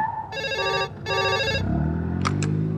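Two bursts of an electronic telephone ring sound after a number is dialed, followed by a low hum and a couple of short high chirps.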